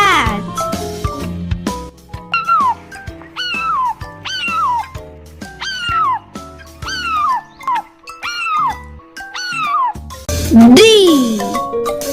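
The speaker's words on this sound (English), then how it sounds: "C for cat." Repeated cat meows, a string of rising-and-falling cries at a regular pace, loud and close, with a final longer meow near the end.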